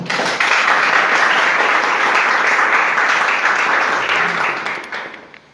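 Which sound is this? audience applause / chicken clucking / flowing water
audience applause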